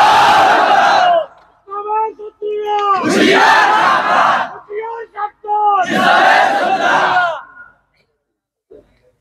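A large crowd roars the takbir slogan in loud, unified shouts, with three long bellowed chants separated by short gaps in which a single voice calls out the lead.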